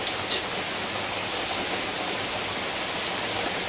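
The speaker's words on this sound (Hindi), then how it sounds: "बारिश बहुत जोर से आ गया" Heavy rain pours down outside a small food shop, a dense, steady hiss of drops with no break, close and loud throughout.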